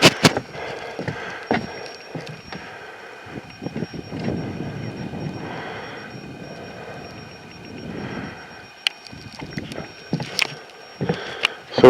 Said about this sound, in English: If the sound's bad, I apologize, but there's a wind blowing